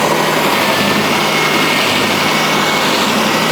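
A power sander grinds steadily on a workpiece, throwing up dust with no extraction running, a continuous loud high-pitched whine holding even throughout, close by with no talking.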